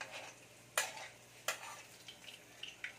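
Food stirred in a frying pan with a few sharp scraping strokes of a utensil against the pan and a faint sizzle underneath, close and fairly quiet.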